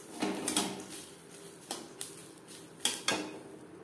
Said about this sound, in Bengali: তার আগে শুকনো খোলায় মুসুরির ডাল ভেজে নেব